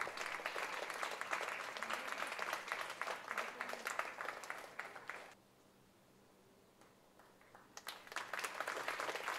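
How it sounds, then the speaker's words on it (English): A crowd at a charity visit event applauds Sarpanch Riya Naik of Asagaon, brisk continuous clapping that drops off abruptly midway, then resumes with scattered claps near the end. "Huge round of applause."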